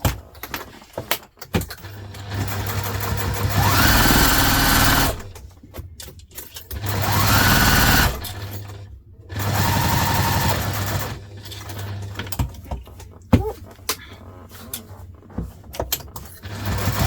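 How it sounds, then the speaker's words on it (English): A sewing machine bastes Thermaline insulating fabric to exterior fabric for a zippered vinyl project bag, running in several loud, steady bursts of stitching separated by short pauses and handling clatter. "I'm literally just basting the thermaline to the exterior fabric"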